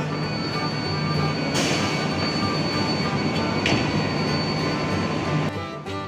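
Continuous rumbling of a KRL Jogja–Solo commuter electric train at Klaten station, Indonesia, broadband and steady, with faint metallic squeals and a couple of brief bursts.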